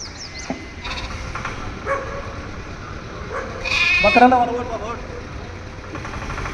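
A goat brought to a protest by farmers outside a government ward office bleats in a wavering cry midway through, amid steady crowd noise and a dog-like yelp, with people talking around it.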